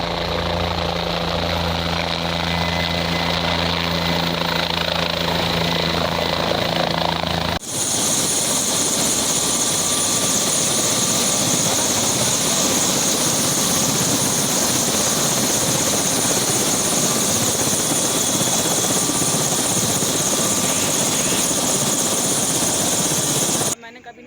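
Helicopter carrying a bride landing at a village, loud steady rotor and turbine roar close by, with a heavier low thumping section at the start that gives way to a bright whining engine drone, continuous until it cuts off at the end.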